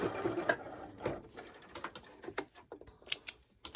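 Sewing machine stitching quilt binding and backtracking a few stitches near a corner, a quick rattling run of needle clicks, close and moderately quiet with uneven bursts.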